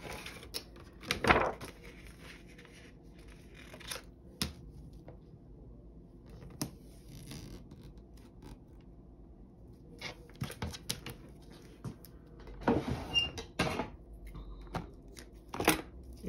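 Strips of tape pressed onto a laminated chip bag, soft scattered crinkles and sharp taps spread across a quiet room, with a few louder rustling bursts near the start and end.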